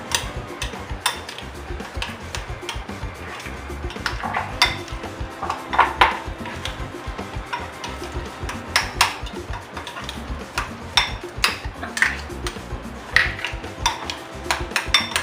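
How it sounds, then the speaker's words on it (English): A spoon repeatedly clinks and scrapes against a bowl while a Parmesan topping for salmon is stirred, producing quick, uneven ticking taps at close range for about fifteen seconds with no voices. "let's give it a stir"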